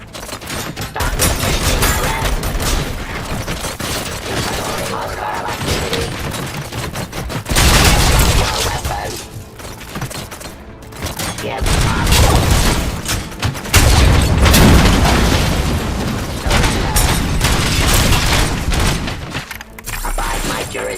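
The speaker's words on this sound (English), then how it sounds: "Gunshots? What's going on?" Heavy gunfire from the RoboCop: Rogue City game, with dense bursts of rapid shots and booming impacts continuing almost nonstop for about twenty seconds. The firing swells in louder waves, and there are brief dips between them.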